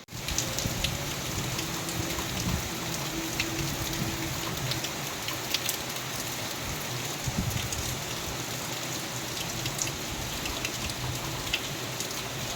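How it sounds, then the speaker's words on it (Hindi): Heavy rain pours steadily outdoors, a dense, loud, continuous hiss of drops striking surfaces with occasional louder splashes, no voices heard. "बहुत तेज़ बारिश हो रही है अभी"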